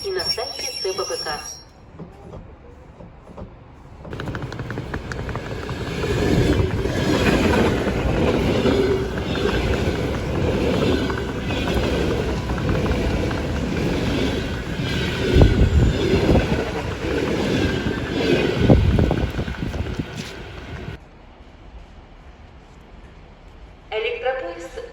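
D2 commuter train passes through Tekstilshchiki station, a loud sustained roar of wheels and rail clatter with squeals, building in and fading out, with station announcements heard around it.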